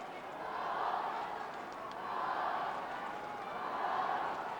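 Crowd at the 1992 All Ireland Club Football Final between Thomas Davis and Dr Crokes, a broad steady roar swelling in slow waves, rising and falling three times under commentary.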